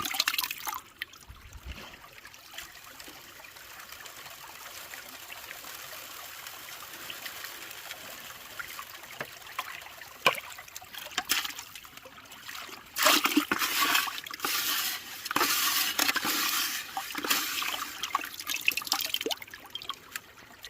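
Fresh water pours and trickles into a bucket of clay to thin it for gold prospecting, a long steady splashing flow that grows louder and more turbulent toward the end.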